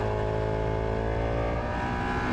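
Fast motorcycle at Palmer Motorsports Park running a steady high-pitched engine drone with dense harmonics, close and constant like an onboard recording at speed.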